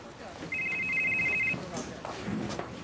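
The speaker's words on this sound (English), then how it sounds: "Answer your phone." A telephone rings once with a steady electronic trill lasting about a second, fairly close in a quiet indoor room, followed by soft shuffling sounds.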